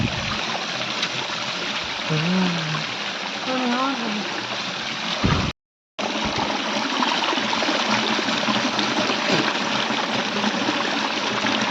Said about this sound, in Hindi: ये झरणार पानी